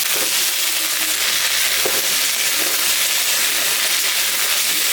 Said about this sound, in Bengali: তরকারিগুলো ভাজা ভাজা করে নিব তাই আমি সর্ষের তেল দিচ্ছি